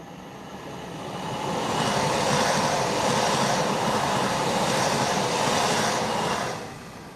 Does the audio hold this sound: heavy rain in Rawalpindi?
no